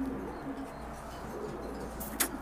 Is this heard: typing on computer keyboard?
no